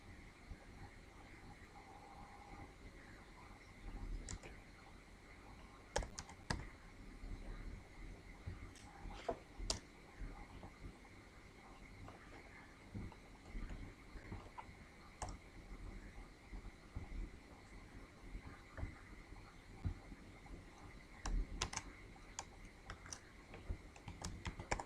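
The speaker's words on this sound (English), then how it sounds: "Now to type HTML code, we'll make use of Notepad." Typing HTML code into Notepad on a computer keyboard: quiet, close key clicks in irregular bursts and pauses, with occasional sharper clacks, steady over about twenty-five seconds against a faint room hum, no speech.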